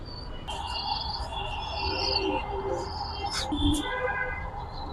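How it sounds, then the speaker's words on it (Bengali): Large Kaldom pigeons and their chicks in a loft give faint, intermittent high chirps and peeps over a low, steady background hum. "আর এই হচ্ছে আমার লফটের সবচেয়ে বড় কবুতর"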